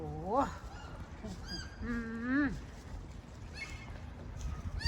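Geese honk a few times nearby at the seaside, loud nasal calls rising and falling, with quieter background rustle between them.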